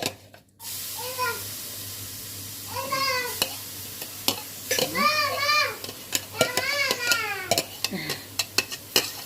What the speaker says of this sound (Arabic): هنحمر البصله